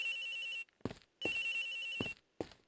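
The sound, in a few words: phone ringing in Ace Attorney Investigations video game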